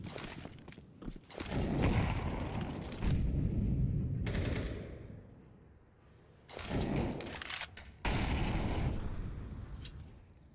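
Rapid bursts of pistol gunfire in a competitive video game match ring out in clustered volleys, loud and close, with brief quieter gaps between exchanges and no talk over them.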